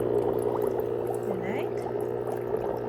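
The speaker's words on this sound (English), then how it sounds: "Let's add some water inside." Water runs into a collapsible foot spa soaking tub with a steady, close gurgling pour and bubbling that rises slightly in pitch as it fills, with no break throughout.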